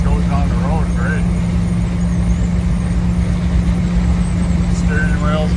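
A 1979 Ford Bronco drives down the road with a constant low engine drone and road rumble inside the cab, and a person talks over the noise throughout.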